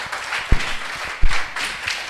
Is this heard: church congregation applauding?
yes